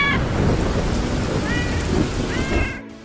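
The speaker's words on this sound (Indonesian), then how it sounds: "Di bawah hujan yang lembut, Rio melihat" Rain falls steadily in an animated short film about a cat, a soft constant patter that runs throughout and thins out near the end.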